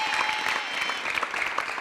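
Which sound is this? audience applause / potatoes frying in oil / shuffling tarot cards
audience applause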